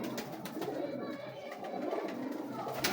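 Pigeons cooing in a loft among birds kept for breeding, with soft, steady cooing and rustling that carries on continuously over a low background.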